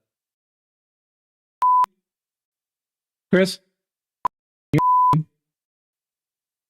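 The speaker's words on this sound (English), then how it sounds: "You hear the beeping?" Two steady electronic beeps sound alone at a single pitch, the second longer, with brief speech between them in a quiet room.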